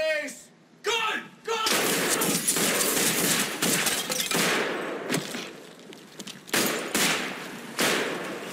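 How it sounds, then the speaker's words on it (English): An old woman opens fire with a gun in a police drama scene, giving a series of loud, sharp gunshot bursts spread unevenly across the scene. "Shots fired."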